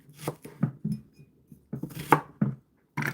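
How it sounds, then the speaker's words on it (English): A kitchen knife chopping a skinned onion loosely into quarters on a board while cooking a creamy courgette dish, giving a run of close, irregular cuts and thuds with short pauses. "just cut it up loosely"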